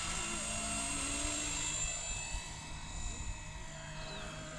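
Blade 250CFX RC helicopter fitted with a Microheli three-blade head hovering outdoors in a light breeze, a steady high-pitched rotor and motor whine held at moderate distance throughout.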